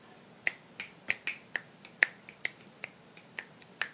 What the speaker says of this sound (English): Sorry, I'm snapping my fingers.